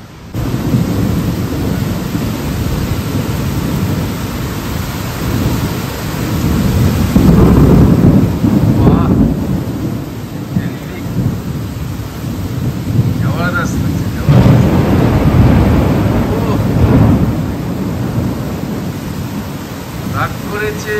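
Heavy rain pours down steadily and loudly, with deep thunder rumbling and swelling twice through the continuous roar of the downpour.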